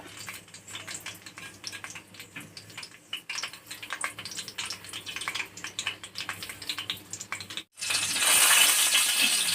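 Green chillies fry in hot oil in a pan, a light crackling sizzle with scattered pops that swells into a loud, dense hiss toward the end.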